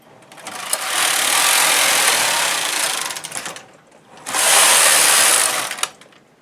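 A knitting machine carriage slides across the needle bed and then back, two loud whirring, clattering passes of about three and two seconds separated by a short pause, close and without speech.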